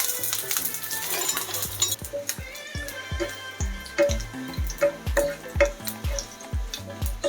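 Dried red chilies frying in hot oil while being stirred for Bangladeshi kala bhuna, with a steady crackling sizzle and repeated metal spoon scrapes and taps against the pan, close and fairly loud, with no talking.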